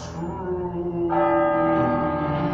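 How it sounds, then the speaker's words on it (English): A bell clangs steadily and loudly on a theatre stage during a live performance of A Christmas Carol, its ringing tones sustained and overlapping through the whole moment. "Stop ringing that bell!"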